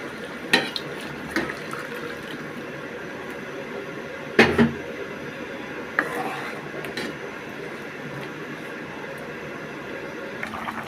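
Potatoes for a catfish curry being sautéed in a pan, a steady low frying hiss with occasional sharp scrapes and clinks of a spatula against the metal, moderately close.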